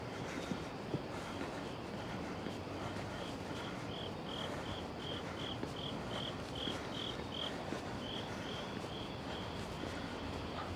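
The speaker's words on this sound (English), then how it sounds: "There's one really loud cricket." A single loud cricket chirps in steady repeated pulses from nearby on a New York City street, over a constant wash of urban background noise.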